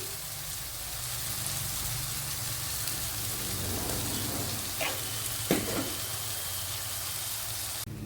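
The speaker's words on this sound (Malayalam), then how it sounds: "അപ്പോഴേ നമ്മളെ പൊടി ഐറ്റങ്ങളൊക്കെ വഴണ്ട് വന്നിട്ടുണ്ട്" Spice powders sautéing in hot oil for a mackerel fish curry give a steady, close sizzle throughout, with a couple of brief scraping stir sounds near the end.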